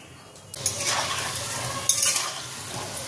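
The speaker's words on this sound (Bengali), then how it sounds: "এই দেখো কোপ্তাগুলো এখানে ভেজে নিচ্ছি" Soybean koftas coated in rice flour fry in hot oil in a pan, a loud sudden burst of sizzling followed by continuous crackling and light clinks of a utensil against the pan, with no voices.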